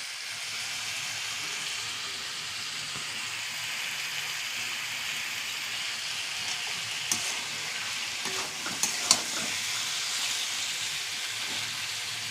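Taro stolons fry in a pan with prawns and onion, a close, steady sizzle that holds evenly for twelve seconds, with a few faint clicks of a utensil near the end.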